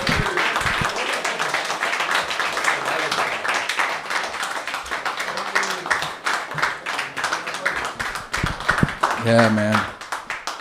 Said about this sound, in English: get your clappers clapping for DT Scott